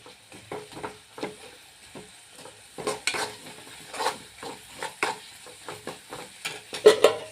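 A lump of asafoetida is stirred in hot oil for a mango pickle, giving a quiet, close sizzle with soft intermittent scrapes and taps of a spoon against the pan.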